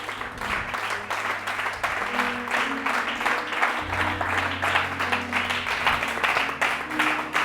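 Church congregation applauding, a dense steady wash of many hands clapping for several seconds over sustained musical tones.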